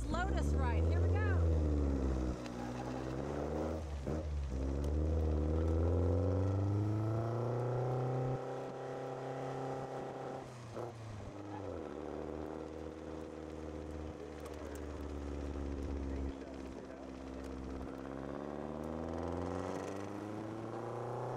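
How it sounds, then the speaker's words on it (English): A small Lotus sports car drives with a steady engine drone that rises and falls through gear changes, heard from inside the cabin, with someone talking now and then. "Now it's my turn. I'm going to climb into this little Lotus."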